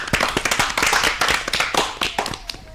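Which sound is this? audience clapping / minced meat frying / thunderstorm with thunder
audience clapping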